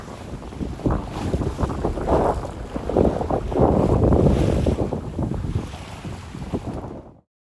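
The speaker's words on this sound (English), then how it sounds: "We're doing about 7 knots. We've got about 1 meter seas, about 15 knots of wind" A sailboat travels alone on the open North Pacific at about seven knots, with 15-knot wind and one-metre seas. Loud, gusty wind buffets the microphone over continuous rushing water and waves, then cuts off abruptly.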